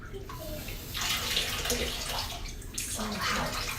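Tap water running in a thin trickle, a steady hiss that swells and eases in a few bursts, fairly close by, with no talking.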